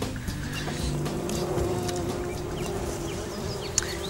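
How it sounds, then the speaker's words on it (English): A bee buzzing near a hive in a field far from a barn, a steady close drone over a continuous mechanical hum, with a brief tick near the end. "Now this bee just flew out."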